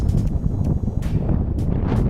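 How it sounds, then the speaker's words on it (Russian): Strong headwind buffets the microphone while travelling along a road, with loud low rumbling gusts throughout and no talking. "Блин, ветер вообще сегодня сильный."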